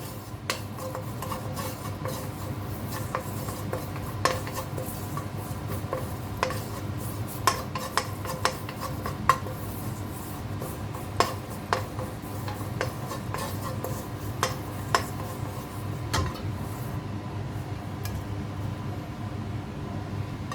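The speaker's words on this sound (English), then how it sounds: "Everything should be dry roasted." A spoon scrapes and clinks against a pan as dry ingredients are stirred while dry roasting, with irregular light taps and scrapes over a steady low burner hum for a long stretch, no talking.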